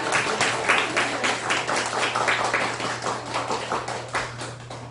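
A church congregation applauds to welcome first-time visitors at a worship service, a close, rhythmic run of many hands clapping with a low hum underneath.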